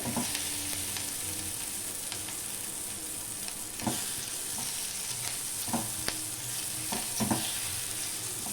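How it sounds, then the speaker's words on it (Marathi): Masala frying in a pan over a high gas flame while cooking a vegetable dish, a steady close sizzle throughout with a few scraping stirs and knocks, no talk. "गॅसची फ्लेम थोडी मोठी ठेवूया मसाला छान ह्याच्यामध्ये फ्राय झाला पाहिजे"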